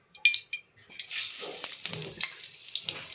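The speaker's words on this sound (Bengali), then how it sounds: "সবগুলো বেগুন দিয়ে সুন্দর করে ভাজি করে নিই" Eggplant slices drop into a pan and begin frying: a few sharp crackles and clinks first, then a rising sizzle with scraping and sputtering bursts close by, with no voices.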